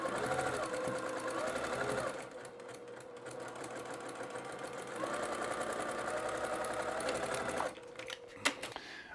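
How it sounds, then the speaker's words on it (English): A sewing machine stitches patchwork fabric strips at a steady quarter-inch seam, a continuous whirring hum with a slight change in pace midway that stops near the end. "Keeping my 1/4 inch seam allowance as much as possible."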